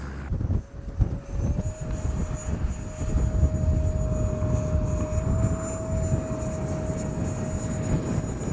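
A small RC model T-33 jet airplane flies in gusty wind, its steady high electric ducted-fan whine holding throughout under a rough blustery rumble of wind noise.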